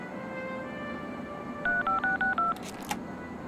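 A phone number punched in on a telephone keypad in the video game Leisure Suit Larry: Wet Dreams Dry Twice: five clear touch-tone beeps in quick even succession over a low ambient hum, then a short click.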